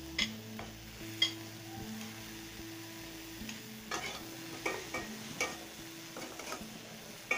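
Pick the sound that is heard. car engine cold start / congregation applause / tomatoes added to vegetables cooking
tomatoes added to vegetables cooking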